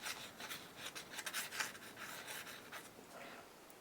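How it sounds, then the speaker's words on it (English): Clay-based soft pastel scratches and rubs across paper in quick, uneven strokes, a close, dry, papery rasp heard alone without talk. "This is made from a clay, and it was all that was used for a lot of sketching"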